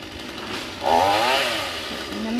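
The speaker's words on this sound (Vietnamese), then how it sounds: "Cái máy cưa cũng là của cô Phượng Võ tặng cho ba của Hoa luôn." A chainsaw cuts branches of a large Xà Cừ tree beside a house roof, its engine revving up into a buzzing whine at a middle distance and holding briefly.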